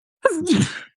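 A single short sneeze, close and clear, lasting under a second with silence around it.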